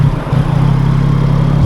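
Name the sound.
Yamaha MT-09 CP3 triple engine revving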